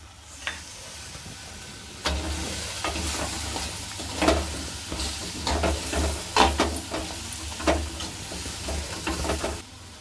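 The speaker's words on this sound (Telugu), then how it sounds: "ఇప్పుడు మనం ఆగిలేసి ఉంచుకున్నటువంటి పచ్చి రొయ్యల్ని ఇందులో వేసేసుకోవాలండి. ఇప్పుడు నెక్స్ట్ మునక్కాయలు వేసుకోవాలండి ఇందులో." Raw prawns and drumstick pieces drop into hot oil in a mud pot, setting off a steady sizzling fry. Stirring scrapes and clatters sound up close over a continuous low hiss that grows louder partway through.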